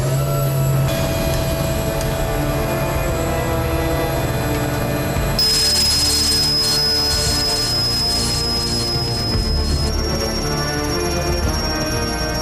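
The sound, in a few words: super-large 4,500 horsepower helicopter engine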